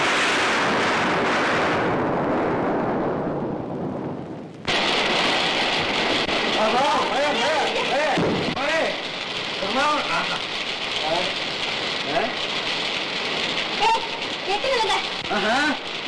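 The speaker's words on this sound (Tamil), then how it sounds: "மழையே வந்துடும் போல இருக்கே." Steady rain falls in a broadband hiss, with a brief drop near five seconds, while voices talk over it through the rest.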